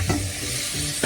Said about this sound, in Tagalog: Pag natunog pa yung piniprito mo, hindi pa yan pwede.